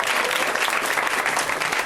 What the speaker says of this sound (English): Round of applause for Cameron, folks.